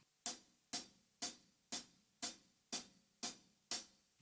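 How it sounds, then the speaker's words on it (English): Eight evenly spaced, crisp hi-hat hits struck hard on the edge, each bright and sizzling with a quick decay; no talking. "using the shoulder of the stick on the side of the hi-hat on the edge"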